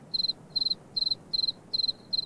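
Cricket chirping by rubbing its wings together, six evenly spaced bursts of rapid shrill pulses, each trilling briefly, close and clear over a quiet background.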